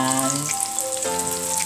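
Halloumi and onions fry in oil in a pan with a loud, continuous sizzle and crackle, heard alongside steady tonal hums.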